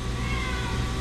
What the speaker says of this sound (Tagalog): Yung pusa, maingay.